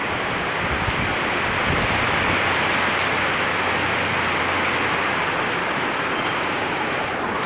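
Heavy rain from Typhoon Ulysses pours down in Pasig, a dense, loud, unbroken hiss of drops on surfaces that holds steady throughout.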